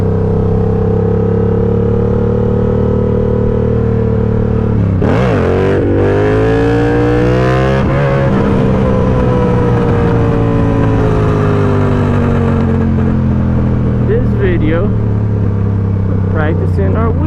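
A motorcycle engine revs up and down during wheelie practice, loud and close, with swooping pitch rises as the throttle is held; voices talk over the engine noise.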